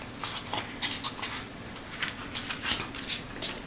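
Scissors snipping a paper Christmas ornament of Santa kissing a reindeer, a quick series of light, close cuts with brief gaps in a quiet room.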